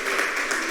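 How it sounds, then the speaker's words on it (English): A canned applause sound effect played during an online chess lesson, a brief, loud, even burst of crowd clapping lasting under a second. "We do have applause we can give you."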